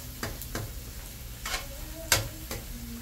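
Shrimp, onion and garlic fry in butter with a little oil, making a low steady sizzle broken by a few crisp utensil clicks and scrapes.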